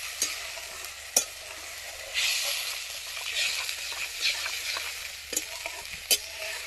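Ginger, green chilli and tomato paste sizzles and spits in hot oil with whole garam masala while a spatula stirs it, steady close frying with occasional sharp clacks of the utensil against the pan.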